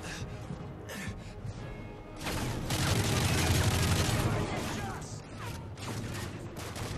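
Video game gunfire from Modern Warfare 3 in a dense fusillade that swells to its loudest in the middle of the firefight, then eases, with scattered impacts and game sounds throughout.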